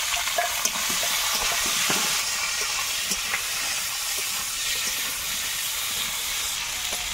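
Onion, chili, tomato and potato sizzle in hot oil with panch phoron, a loud, steady frying hiss with faint stirring clatter and no talking.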